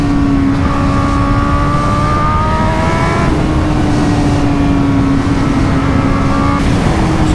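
A 2020 Honda Fireblade SP sport motorcycle screams at high revs while being ridden hard, its loud engine note rising and shifting through gear changes with constant wind roar around it.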